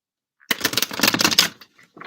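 A burst of tarot card shuffling, a dense riffling flutter lasting about a second, then a brief pause and a quieter shuffle starting again.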